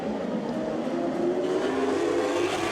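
410 winged sprint cars racing at the Foothill Thunder King of the West event, a dense, continuous roar of multiple engines at full power, loud and steady with a rising pitch as the pack runs.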